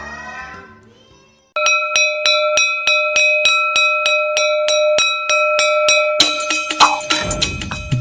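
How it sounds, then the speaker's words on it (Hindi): A school bell in Nepal rings with rapid, evenly spaced metallic strikes that carry on for several seconds, loud and close, after a quiet lead-in and before a burst of louder clattering noise at the end. "नेपाल में बजती है स्कूल की घंटी"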